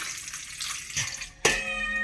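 Water runs steadily from a tap into a sink while dishes are washed, with a clatter and splash midway through, close and continuous.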